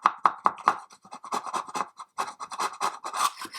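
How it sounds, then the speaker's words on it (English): A chisel scraping and prying small parts off a plastic 1/200 Trumpeter Scharnhorst ship model deck, a series of sharp close clicks and short scratchy strokes in an irregular rhythm, with no talking. "So we can just remove those with a chisel, nice and gently"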